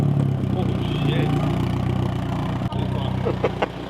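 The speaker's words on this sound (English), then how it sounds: "ZSS Racing exhaust and the single cam KA" Nissan 240 with a single-cam KA engine idling through a ZSS Racing exhaust, a steady low burbling rumble close by, a brief clunk partway, with faint voices around it.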